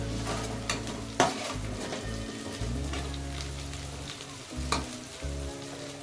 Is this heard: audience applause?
no